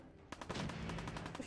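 Rapid gunfire in the video game Fallout 4, a burst of repeated shots in quick succession right up close, loud and continuous after a brief quiet start.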